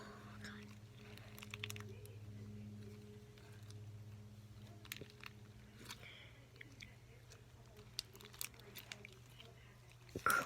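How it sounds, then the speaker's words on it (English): Crunchy slime with rainbow-colored beads being squeezed close up, producing soft scattered crackles and squishes over a low background hum, growing sharper near the end. "Crunchy slime."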